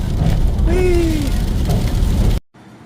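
Steady rain pours down outdoors on a nasty day, a dense continuous hiss that cuts off abruptly near the end, leaving faint background noise.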